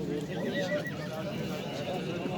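A male foal at a horse market in Nookat neighs with a long, wavering whinny that rises over a busy crowd murmur and talk, with scattered hoof sounds.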